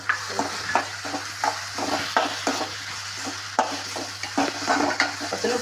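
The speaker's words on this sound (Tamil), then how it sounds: "வெங்காயம் தக்காளி வதங்கிருச்சு." Onion and tomato sauté in a pan for a prawn dish, giving a steady close sizzle broken by repeated scraping stirs in an uneven rhythm, with no voices.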